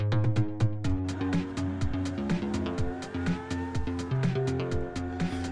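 A Lamborghini engine in PUBG drones and revs while the car circles, a steady tonal hum with shifting pitch and repeated surges, fairly close and alone without talk.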